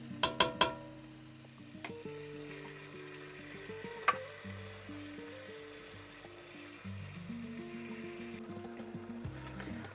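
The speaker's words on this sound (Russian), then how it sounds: "Все перемешиваем" Baked zucchini being stirred into a pan of stewing carrots and onion, a soft steady sizzle with scraping spatula strokes and a few sharper clinks near the start, continuous throughout.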